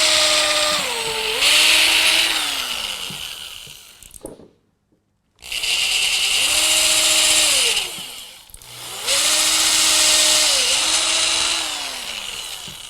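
A power drill whines loudly while drilling a pilot hole in wood, in two long bursts, its pitch dipping and rising under load, with a brief pause between.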